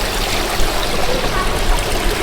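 A decorative indoor water feature trickling and splashing in a steady, close, unbroken flow with no one talking over it.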